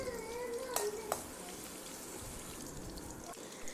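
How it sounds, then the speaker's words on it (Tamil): Shallots, fennel seeds and a chili sautéing in hot oil for a potato masala, giving a steady, fairly quiet sizzle with a couple of brief sharp clicks and no speech. "நமக்கு வெங்காயம் ஓரளவுக்கு நல்லா வதங்கி வந்துடுச்சு"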